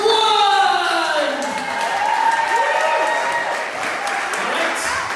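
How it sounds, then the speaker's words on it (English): Sustained applause from a comic con audience, a dense steady wash of clapping lasting several seconds with some crowd voices mixed in. "A big round of applause for one!"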